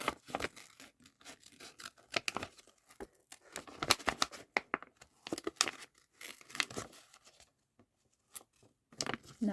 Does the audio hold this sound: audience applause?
no